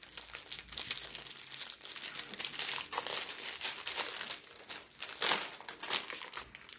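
Crinkly plastic wrapping rustles and crunches continuously as a promotional package is opened, busy and close-up, with sharper tearing bursts scattered throughout and no talking.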